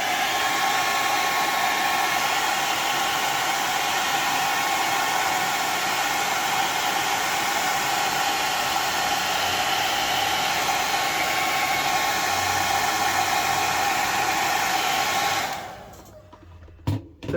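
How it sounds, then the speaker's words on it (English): A blow dryer drying watercolor paint runs as a steady, loud, close whooshing roar for about fifteen seconds, then switches off abruptly, leaving near silence. "I'm going to turn on the blow dryer while we're on camera just to watch this spot"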